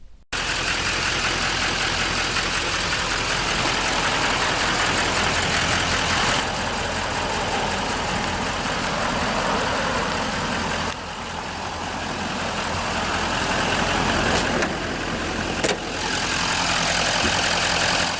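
A 2013 GMC Sierra 2500HD SLT with the LML 6.6-liter Duramax turbodiesel V8 idles close by, giving a loud, steady diesel clatter and rumble that runs continuously with only slight shifts in level.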